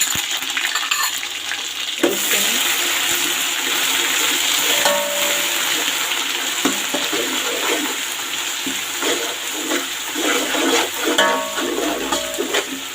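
Ginger garlic paste sizzling steadily in hot oil in a pan for a vegetable pulao, a continuous bright frying hiss with soft scraping as it is stirred, close and without talk.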